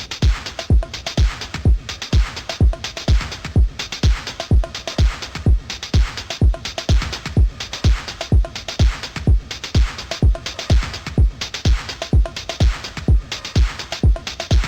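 A steady four-on-the-floor kick thumps under three types of ticking closed hats, a clap, light percussion and bongos, a mellow, slightly muffled lofi house groove looping evenly.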